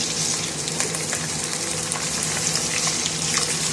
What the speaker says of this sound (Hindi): हमारा चिकन फ्राई हो रहा है।